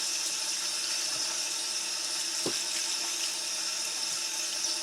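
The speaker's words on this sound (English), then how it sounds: "And just go ahead and just rinse it off." Running tap water pours steadily as an animal hide is rinsed, a continuous close splashing hiss with one brief dull knock partway through and no talk.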